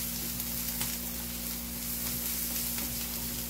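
Onion fries in a hot pan until lightly golden, a steady, close, even sizzle filling the whole stretch without pause or voices, under a faint low hum.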